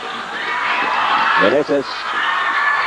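A Philippine PBA basketball arena crowd roars in a sustained, broad cheer while a commentator talks over it.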